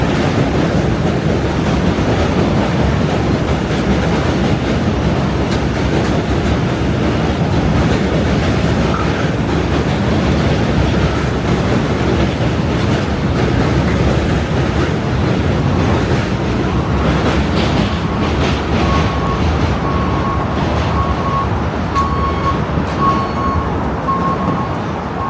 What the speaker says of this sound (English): Another J train going the other way.